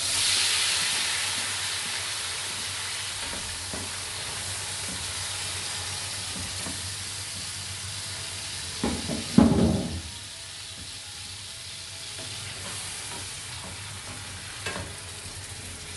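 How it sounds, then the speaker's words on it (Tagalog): Tomatoes sauté in a pan for pasta, giving a steady soft sizzle with a louder burst of hiss and stirring midway, then settling back to a low simmer. "gigisa lang natin siya ng mga 3 to 5 minutes"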